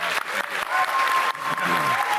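A crowd applauds the staff of a show, a dense, continuous clatter of many hands with a few louder bursts, and voices mixed into the clapping.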